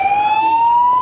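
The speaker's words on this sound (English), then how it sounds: "Ambulance." An ambulance siren wails loud and close, a single steady rising tone held for about a second with no voices over it.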